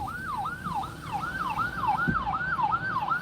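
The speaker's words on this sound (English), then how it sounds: "hear a siren" An emergency siren wails in a rapid, repeating up-and-down yelp, moderately distant, over the low hum of traffic.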